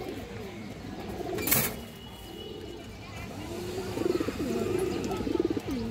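Soft rolling coos rise and fall from pigeons in a seller's loft, with a brief sharp clatter early on and a run of closer, louder cooing near the end over steady background noise.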